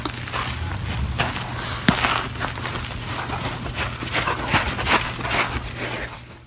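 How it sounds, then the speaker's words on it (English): A horse walking, hooves clip-clopping in an uneven series of sharp knocks over a steady low hum, moderately close with no talk. "So now the horse is finally moving."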